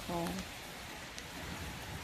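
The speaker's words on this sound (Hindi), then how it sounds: "एकदम बारिश आ गई है, ये देखो।" Heavy rain pours steadily outside in a hill village, a dense even hiss heard throughout, with a voice speaking briefly over it at the start.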